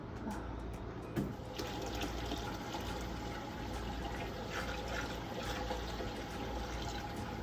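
Hot tap water pours steadily into a pot of jars for jelly canning, a continuous soft splashing rush that stays faint and even throughout.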